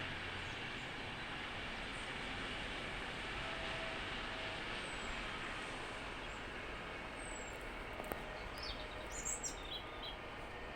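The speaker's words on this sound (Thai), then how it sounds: "เอารถไฟมาพอดีเลย" A steady, continuous rumble of a train passing at a distance in Italy at sunset, fairly faint, with a few bird calls near the end.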